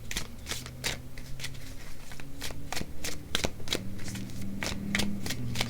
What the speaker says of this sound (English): It's really hard for me to shuffle these cards because my hands are not as big as the cards.